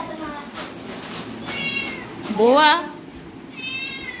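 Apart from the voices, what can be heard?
cat meowing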